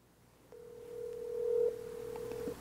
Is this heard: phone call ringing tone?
yes